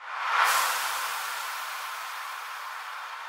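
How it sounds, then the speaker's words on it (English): A single noise sweep in an FL Studio future house drop swells quickly to a bright peak, then thins and fades out slowly over a few seconds, heard on its own. "And I added a sweep transition."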